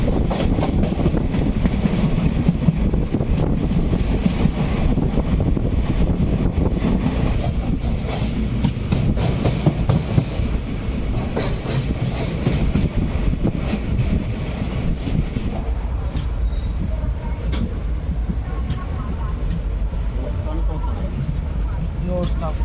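Continuous rumble and rattle inside the Guruvayur–Thiruvananthapuram Intercity train in Kerala while it runs, a dense, loud, steady roar with wind noise and clatter throughout.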